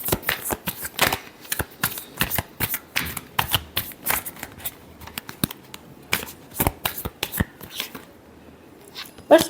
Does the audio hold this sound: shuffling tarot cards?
yes